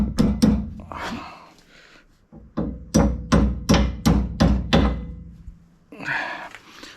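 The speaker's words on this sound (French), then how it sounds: "un petit coup de marteau" A hammer taps a metal pin through a small plate on a car part, a few scattered blows then a quick steady run of about seven sharp, close strikes, followed by a scraping clatter.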